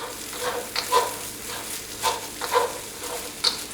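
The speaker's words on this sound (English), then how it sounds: "Once you have the eggs cooked, give it a mix." A spatula stirs cooked eggs through surf and turf fried rice in a hot pan, giving scraping, clinking strokes at an irregular pace over a constant sizzle and hiss of frying, close and fairly loud.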